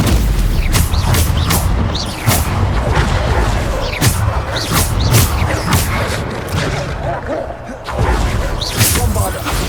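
Repeated booming Bombarda spell explosions in Hogwarts Legacy, loud and close, firing in quick succession with sharp thuds and whooshes over a continuous rumbling battle bed.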